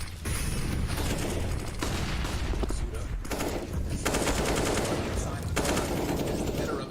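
Dense, sustained automatic gunfire from a Counter-Strike competitive match, rapid bursts of rifle and machine-gun fire rattling continuously at close range with overlapping shots and no pauses.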